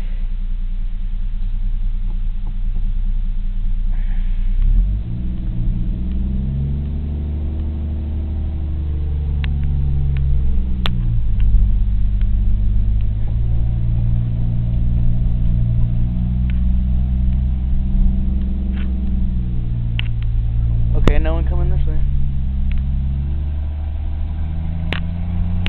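A Jeep engine runs throughout a short drive, a low steady rumble that rises and falls with shifting revs and a few clunks, with no voices.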